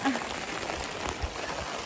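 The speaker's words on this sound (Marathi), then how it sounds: "पाऊस खूप यायला लागलाय" Heavy rain pours down steadily in a village yard, a dense broadband hiss with scattered drops striking surfaces nearby, continuous and fairly loud with no pauses.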